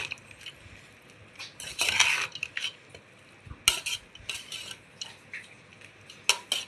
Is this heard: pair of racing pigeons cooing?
no